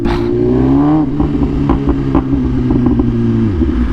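A BMW S1000RR motorcycle with a custom titanium header and slip-on exhaust revs loudly up close, its engine note climbing and then dropping, with sharp crackling pops and backfires scattered through the deceleration.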